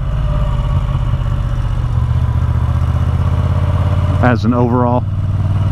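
Steady Moto Guzzi V7 850 motorcycle engine rumble idling throughout, recorded by a microphone under the seat, with a person speaking briefly over it near the end.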